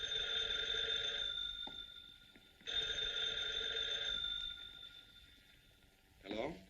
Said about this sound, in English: I just received a mysterious phone call about Uncle Martin